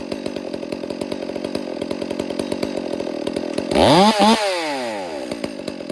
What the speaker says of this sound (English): Right down to idle.